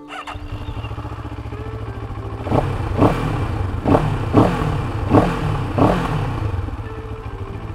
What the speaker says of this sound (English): Nice baritone of a parallel twin.